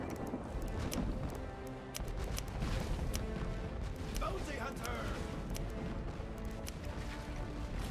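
Ship cannons fire in the pirate video game Legend of Pirates Online, dense booms and crashes layered in a loud, busy battle mix, with a voice talking over the top.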